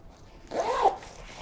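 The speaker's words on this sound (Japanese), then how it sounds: "バッグの外側はですね、こうファスナーポケットを備えていたり" A single short zip of a zipper pocket on the outside of a drawstring camera bag being pulled open, close and crisp, with quiet room tone before it.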